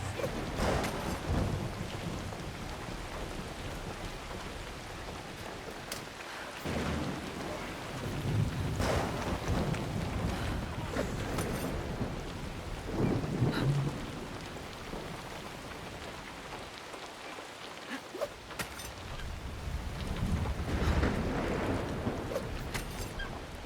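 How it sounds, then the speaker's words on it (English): Steady rain and a thunderstorm in the Assassin's Creed Shadows video game, a continuous wash of downpour with low rumbling swells of thunder throughout, no talking. "Shame it's a bit dark, wet and rainy though."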